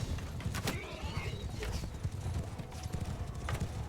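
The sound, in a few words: horse hooves and whinny in video game Mount & Blade 2 Bannerlord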